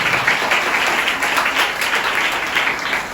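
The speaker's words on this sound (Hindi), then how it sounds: "परमेश्वर के लिए जोर से ताली बजाइए।" Loud, steady applause fills a church congregation as worshippers clap for God, a dense, continuous wash of many hands with no pause throughout.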